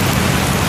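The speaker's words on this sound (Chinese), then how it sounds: "新北中和也瞬间下起暴雨" Sudden heavy rainstorm in New Taipei's Zhonghe district, a dense, loud, unbroken roar of downpour with no voices.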